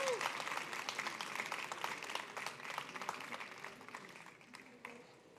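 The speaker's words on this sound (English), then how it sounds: "Can we have a round of applause to support Simon, please?" Audience applause for Simon at a ChangeNOW 2024 pitch session, dense clapping from a crowd that thins and fades toward the end, with a brief voice at the start.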